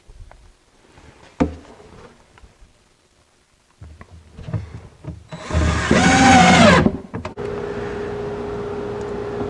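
A power drill drives pocket hole screws into wood while a TV stand is being built: a sharp knock, scattered handling clatter, then a loud whirring burst of a few seconds followed by a lower steady hum.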